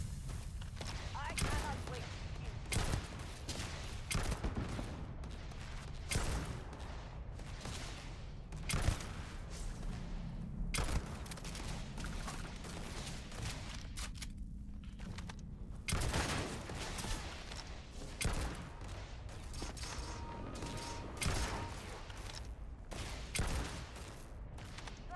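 Rapid volleys of gunfire from sci-fi shooter combat in Starfield, bursts repeating steadily and loudly throughout amid dense battle noise, with a voice speaking occasionally.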